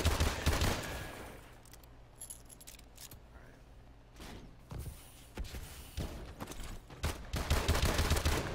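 Rapid bursts of video game gunfire with frequent reload clicks, loud at the start and end and thinner in the middle, with scattered impacts throughout.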